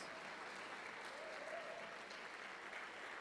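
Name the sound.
congregation applauding in church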